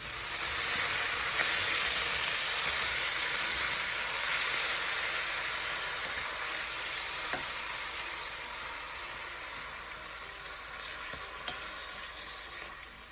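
Beef strips frying in hot oil with a little sugar for pepper steak: a steady, close sizzle and hiss that slowly eases in loudness, with faint stirring clicks.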